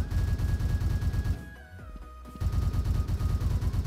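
Automatic gunfire in the online shooter Truy Kích, delivered in fast, loud bursts that break off for about a second and then resume, with no talk.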